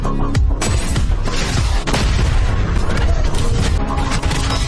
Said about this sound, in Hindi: हमारे साथी ने गुस्से में गोलियां बरसाईं